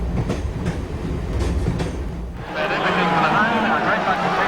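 A passing train in a television advertisement, a steady rumbling roar with rail noise that swells louder and brighter partway through, heard alone without talk.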